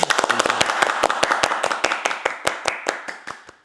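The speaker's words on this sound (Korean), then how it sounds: "우리 목자 목녀님들께 한번 박수 보내드릴까요?" Applause from a church congregation: a rapid, dense patter of many hands clapping at close range, with some sharp individual claps standing out and a faint murmur of voices beneath.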